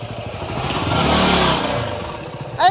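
A motorcycle engine revs hard and rises in pitch as the front wheel lifts in a wheelie, loud and close, then eases off before a brief sharp rev at the end.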